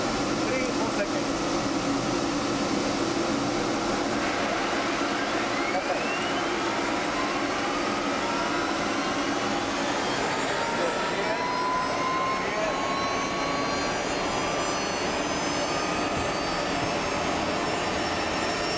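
A Mi-24 helicopter's number one engine spools up with a loud, rising turbine whine over a roaring rush of air, the tones climbing steadily through the start, with voices speaking over it.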